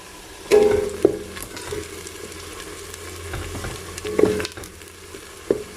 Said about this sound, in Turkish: Şimdi şöyle kavrulan soğanlarıma 2 yemek kaşığı salçamı ilave ediyorum.